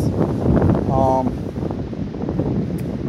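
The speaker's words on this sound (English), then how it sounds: "So windy." Strong wind buffets the microphone throughout in a steady low roar, with a brief tonal whistle partway through.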